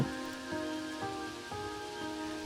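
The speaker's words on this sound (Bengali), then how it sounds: "আচানক একদিন মুসলধারে বৃষ্টি শুরু হলো" Sudden torrential rain patters on a surface, a dense even hiss with faint regular ticks, no voices.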